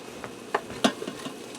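Spoon stirring taco seasoning into browned ground beef and onions in a pot, a few soft scraping clinks spaced apart over a faint sizzle, close and quiet.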